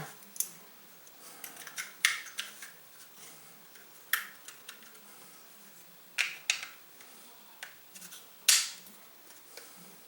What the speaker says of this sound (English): So let me put this gun back together real quick here.